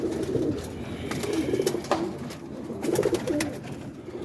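Breeder pigeons coo softly nearby in a loft, low rolling calls repeating in a few bursts with light rustling between them.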